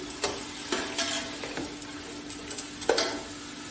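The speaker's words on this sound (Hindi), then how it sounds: "अब मैं इसमें प्याज डालूंगी और इसको गोल्डन करना है मैंने।" Onions frying in oil in a pan while being stirred until golden, heard as a soft steady sizzle broken by scattered clicks and scrapes of a utensil against the pan, close and fairly quiet.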